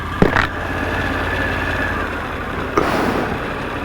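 A Harley-Davidson 1250 ST V-twin engine runs steadily, its low rumble constant and moderately close, with two brief sharp knocks breaking through.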